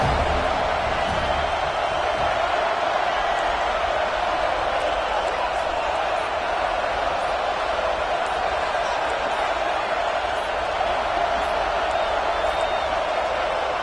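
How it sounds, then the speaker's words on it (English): Stadium crowd in a college football video game, Sooners against Florida State, roaring steadily on a third-down defensive stand, a dense continuous wall of cheering that stays loud throughout. "Decibels rising as the crowd gets behind this defense on third down."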